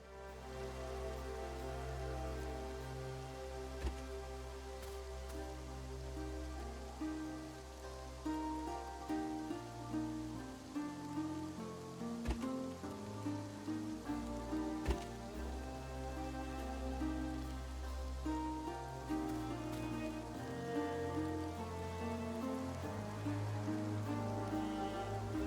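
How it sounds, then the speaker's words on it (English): Steady rain falling in a crafting video game, a continuous hiss of drops spread under a backdrop of layered game music, with no voices. "It's raining, needs a roof."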